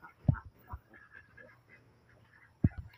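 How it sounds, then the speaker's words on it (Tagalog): Penned farm ducks give a few sharp, nasal quacks, two louder calls a couple of seconds apart with softer murmuring between them, heard close by in a quiet setting. "Ayan ang ating mga bibi."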